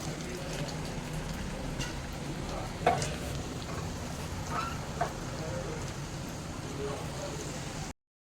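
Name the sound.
garlic and dried red chillies frying in mustard oil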